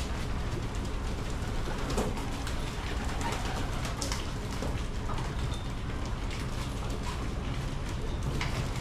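Pigeons coo softly while being fed two kinds of feed, their low murmuring calls steady throughout, mixed with light pecking and shuffling sounds and scattered bird noises, with no talking.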